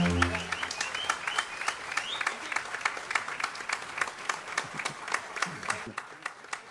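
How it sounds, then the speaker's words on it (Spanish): A crowd at Radio Suquía's 25th anniversary party applauds after a plaque presentation, with a sustained burst of many distinct claps and some voices mixed in, tapering slightly near the end. "¡Fuerte ese aplauso!"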